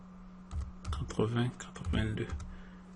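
Keys clatter on a computer keyboard in quick, uneven bursts of clicks, with a low steady hum and a voice murmuring faintly underneath.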